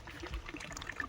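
Water from a 7.5 HP pump motor trickles and splashes softly in a brief, quiet, continuous flow, outdoors on a farm.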